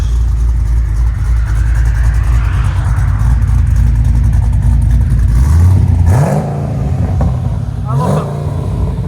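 A cammed Chevy Caprice with a 6.0L V8 and open long tube headers idles with a loud, choppy, lopey rumble, close by, with brief blips of revving near the end and a voice talking over it.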